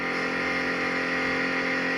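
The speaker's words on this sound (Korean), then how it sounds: "차 상태 보고 RPM을 올려야 됩니다" The engine of a BMW 740 car runs at raised revs, giving a steady, loud, continuous drone with a rich hum and no pauses.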